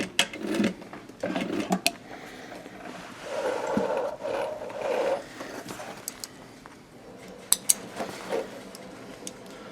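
A sewing machine stitches a BOC pocket for a skydiving rig in short bursts of whirring, separated by pauses with light clicks and handling noises nearby.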